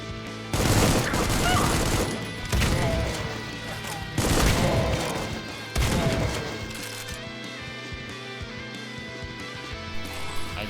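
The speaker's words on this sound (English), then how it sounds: "Who else is shooting at me?" Enemy gunfire in the first-person shooter Supplice, several loud bursts of shots and crashing impacts in quick clusters, then tapering to quieter background noise.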